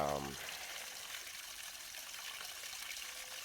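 Water gushes from a broken water main line on a hillside hike in Tobago, a steady rushing hiss that runs on without pause after a brief voice at the very start.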